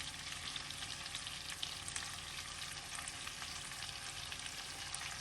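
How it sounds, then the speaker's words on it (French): Chicken with olives and spiced halal meat cooking in a pan, a soft, steady sizzle with light stirring scrapes, faint and unbroken. "Je vais mélanger et on va laisser cuire tranquillement"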